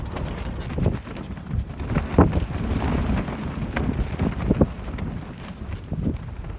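Strong gusting wind buffets and flaps a bivvy tent's fabric close to the microphone beside a lake, with irregular thumps and rustles rising and falling throughout.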